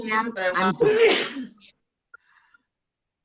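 Someone sneezes during an online township board meeting. A single sharp, loud sneeze bursts out right after a few spoken words and is followed by near silence.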